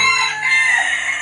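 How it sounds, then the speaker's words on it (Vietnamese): A six- to seven-month-old adult Tan Chau bantam rooster with a yellow-brown burnt-banana plumage crows once, a close, loud, drawn-out call alone without talk. "cũng gà tre Tân Châu nè, mà con này là trưởng thành rồi nè"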